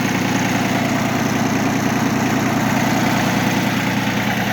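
A Yanmar FB15D compact Japanese tractor's small diesel engine idles steadily with a constant low throbbing rumble, loud and close, unchanging throughout, no speech.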